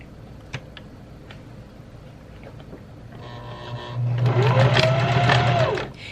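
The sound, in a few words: sewing machine straight stitching on mesh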